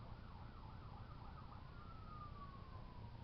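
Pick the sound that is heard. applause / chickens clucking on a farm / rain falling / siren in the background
siren in the background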